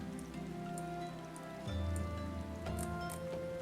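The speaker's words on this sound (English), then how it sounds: "Oh, it's raining outside." Soft rain patters in Final Fantasy XIV, a faint, steady wash of droplets with no voices over it.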